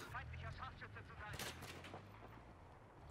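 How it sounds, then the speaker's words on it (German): Gunfire in the video game Battlefield 4 crackles in short bursts of shots, moderately loud against a busy game soundscape with low rumble underneath. "Oh, ich glaube, und wir werden beschossen."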